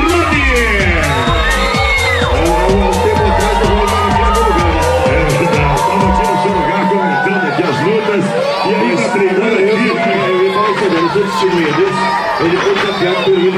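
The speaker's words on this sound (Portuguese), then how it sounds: "Cadê os aplausos para o Rony" A wrestling show crowd at a telecatch event cheers and applauds, with loud whoops, yells and chatter blending into a continuous roar and rhythmic clapping early on.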